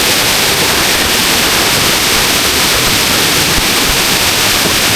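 The seventh tier of Erawan waterfall in Thailand gives a loud, dense, unbroken roar of falling water that fills the whole clip.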